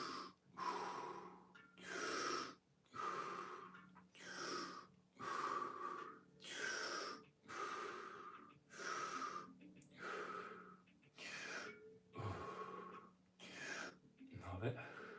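Steady deep breathing in a Wim Hof method routine, held through a front split: about a dozen rhythmic, close inhale-exhale cycles, each a loud airy rush roughly a second long, with a faint low hum underneath.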